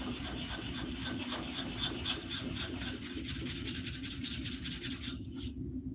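A wooden axe handle being sanded by hand, rapid rhythmic rubbing strokes that grow louder and quicker toward the end, then stop abruptly, leaving a low steady hum.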